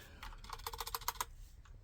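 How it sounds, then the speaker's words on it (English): Keys on a Drop Alt mechanical keyboard with hotswap sockets being typed one after another, a quick run of about a dozen crisp, close clicks, quiet and alone. "then we're going to type all the alphabet"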